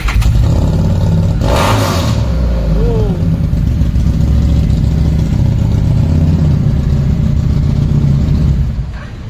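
A used motorcycle with an aftermarket exhaust rumbles and revs loudly and steadily throughout, with a deep throaty exhaust tone and a brief rising rev early on.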